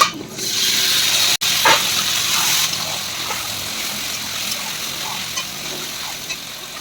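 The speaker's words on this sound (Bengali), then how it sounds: "এবার আমি এই মাংসটা, মাখিয়ে রাখা মাংসটা দিয়ে দেবো।" Marinated mutton drops into a pan of fried onions for a Bengali-style mutton curry, giving a loud hissing sizzle at first that settles into a softer, steady frying crackle with faint stirring, no voices.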